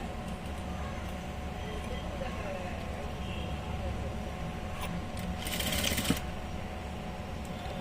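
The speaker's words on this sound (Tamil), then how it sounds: "நான் இங்கே சும்மா தையல் போடுறேன்." A sewing machine runs continuously while stitching fabric edges for a gathered petticoat, a steady close mechanical whir with a short burst of louder rattling near the end, and a voice speaking over it.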